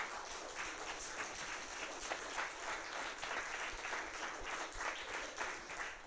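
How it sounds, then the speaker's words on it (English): Steady applause from a meetup audience thanking event volunteers at a Queens tech gathering, a dense even patter of clapping hands sustained throughout without pause. "Let's give them a round of applause."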